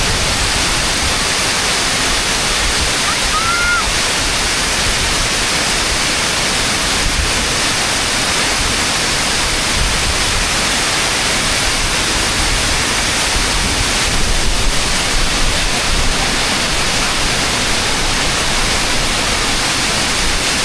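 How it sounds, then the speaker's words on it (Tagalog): Rushing water of a waterfall pours in a dense, constant roar that fills the whole stretch without pause, loud and close with no other sounds standing out. "talagang malakas yung lagasan ng tubig"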